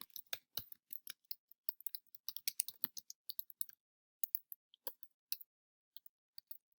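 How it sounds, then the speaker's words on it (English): Fingers type on a computer keyboard in quick, irregular bursts of crisp clicks with short pauses between, close and fairly quiet, no voices. "So I type that in."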